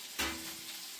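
Fish seasoned with turmeric and salt fries in hot oil, giving a steady close sizzle that swells sharply at one point and then settles into a continuous hiss.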